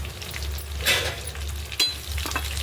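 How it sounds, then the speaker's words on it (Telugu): A tempering of garlic, curry leaves and cumin sizzles steadily in hot oil for tomato rasam, a close, continuous frying hiss with a few brief louder spurts as the pan is stirred. "టమాటా రసంకి పోపు రెడీ చేస్తున్నాను. వెల్లుల్లి, కరివేపాకు, జీలకర్ర"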